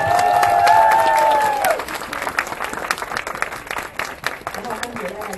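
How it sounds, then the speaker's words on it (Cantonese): Wedding guests burst into applause for the groom during the vows ceremony, a dense close patter of many hands clapping that follows a brief tonal sound and continues steadily to the end. "俾啲掌聲新郎哥啦"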